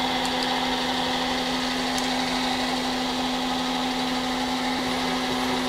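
A metal lathe runs with its power feed engaged while building a Wright roller kit, giving a steady mechanical hum and whine with a strong constant tone, unbroken and evenly loud throughout.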